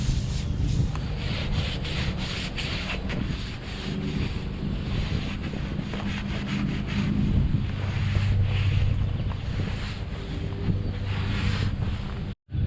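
Hand brushing across a wooden work table being restored, a continuous close scratchy rubbing with a steady level throughout, ending abruptly.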